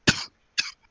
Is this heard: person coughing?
yes